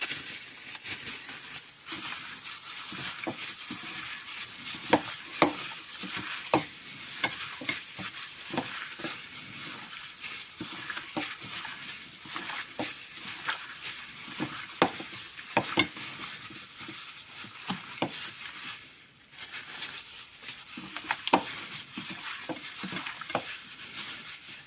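Seasoned pork is mixed by hand for a braise, giving a continuous close wet squelching and slapping with irregular soft smacks, steady and fairly quiet throughout.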